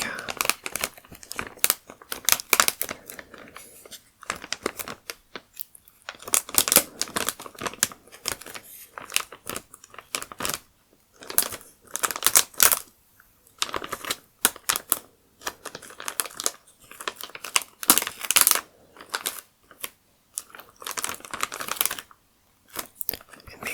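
A crinkly bag being carefully folded up, with close crisp crinkling and rustling in irregular bursts separated by brief pauses, and soft whispered talk in places.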